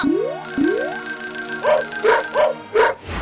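A cartoon dog lets out several bright, bouncy yips and barks in quick succession, loud and close, following a pair of springy sliding boing sound effects.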